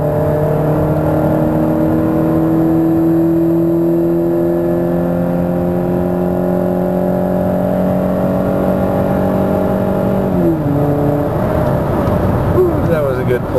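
Modified car engine with a stock exhaust revved hard at full throttle, a loud, steady drone of stacked harmonics holding for about ten seconds before dropping and shifting, close to the microphone.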